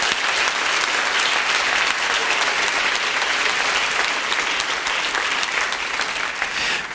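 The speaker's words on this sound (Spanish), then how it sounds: "Otro aplauso." Sustained applause from a church congregation fills the hall, many hands clapping loudly and evenly for several seconds, holding steady before easing slightly near the end, with no voices on top.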